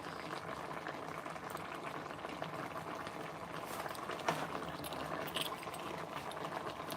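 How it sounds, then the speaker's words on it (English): Water runs from a kitchen tap in a steady, faint, continuous gush with light splashing and a few small clinks, with no talk. "Let me run water."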